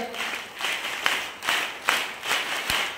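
An audience at a Vestige meeting claps in rhythm, with repeated bursts of applause rising and falling about every half second to second, fairly close and filling the room, with no talk over it.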